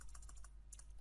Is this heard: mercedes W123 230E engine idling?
no